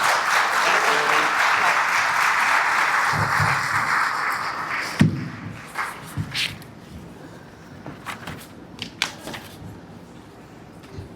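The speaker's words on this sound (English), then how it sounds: "give him a round of applause as he comes up" Room applause at a chamber of commerce awards celebration as the mayor comes up to speak, a loud, sustained crowd clap for about five seconds that then fades out into scattered footsteps, shuffling and light handling noises.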